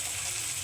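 Tomatoes frying in a pan with cumin and green chillies, a steady, dense, close hiss of sizzling oil with no pauses.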